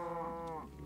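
A single cow from Minecraft lets out a drawn-out, fairly quiet moo that slides downward and fades near the end, alone without any talk.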